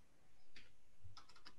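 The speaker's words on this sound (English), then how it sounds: "I'm typing on the last row." A few quick keystrokes on a computer keyboard, close and fairly soft: a single tap followed by a short cluster of clicks over a low room hum.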